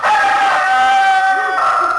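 A guinea fowl calls loudly and close in a short burst of harsh, rapid tonal cries, with a dog howling heard alongside and no speech over it.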